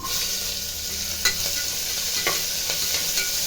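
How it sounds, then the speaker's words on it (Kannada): Onion, curry leaves and green chilli fry in a pan for beetroot palya, giving a constant hissing sizzle with a few light spatula scrapes on top, near and steady, without voices. "ಇದೊಂದು ಐದು ನಿಮಿಷ ಫ್ರೈ ಆಗಬೇಕು ಈರುಳ್ಳಿ ಫ್ರೈ ಆಗಿದೆ"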